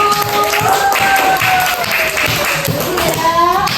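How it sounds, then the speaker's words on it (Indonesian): Children in a classroom applaud loudly, a dense, continuous burst of clapping close by, mixed with excited young voices. "Oke, tepuk tangan buat Pak Is dulu."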